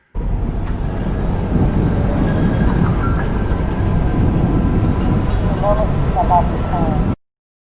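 Train moving in a sound design piece, a steady loud rumble of rolling rail cars with a few faint squeals and chirps, continuous throughout before cutting off.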